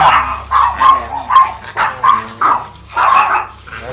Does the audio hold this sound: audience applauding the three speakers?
no